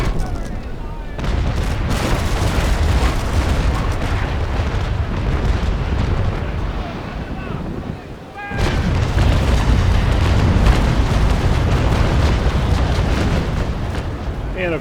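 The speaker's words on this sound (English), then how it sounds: "that was a terrible broadside" A naval video game ship fires a cannon broadside, a dense, rumbling barrage of booms rolling on for several seconds, a brief lull, then another loud thunderous volley.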